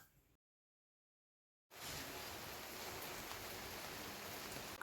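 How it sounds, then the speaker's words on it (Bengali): Steady monsoon-season rain falls outside a home in Kerala on Diwali, with a light wind blowing. A short faint patch cuts to silence, then a dense, even, close hiss of rainfall runs without a break and with no talking. "এখন এখানে কয়েকদিন ধরেই লাগাতার বৃষ্টি হচ্ছে"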